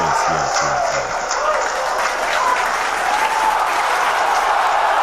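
Steady, dense applause from an audience fills the whole stretch, an even wash of clapping with faint voices underneath.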